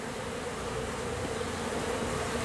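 Honey bees buzzing around a hive box they moved into after swarming, a dense, steady hum of many insects close by with no voices.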